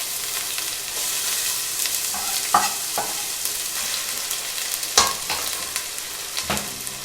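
Onions frying in a pan for chicken cacciatore make a constant close sizzle, broken by sharp scraping knocks from stirring.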